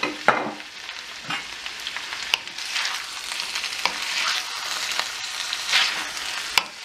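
Diced onions and sliced peppers sizzle steadily in a pan over high heat, with occasional scraping stirs breaking through the continuous frying hiss.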